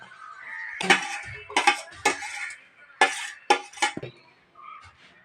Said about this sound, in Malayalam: തേങ്ങായും കൂടി ഇട്ടിട്ട് മിക്സ് ചെയ്യുക അതുപോലെ ഇളക്കി ചേർക്കുക